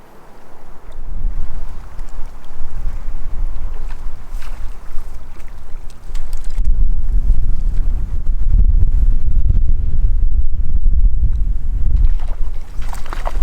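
Wind rushes steadily across an outdoor trout-fishing spot, a broad low rumble of gusts buffeting the microphone that swells louder and heavier in the second half, with no talking.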